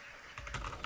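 Brief burst of computer keyboard typing, a few quick clustered keystrokes close up, growing slightly louder toward the end, with no talking.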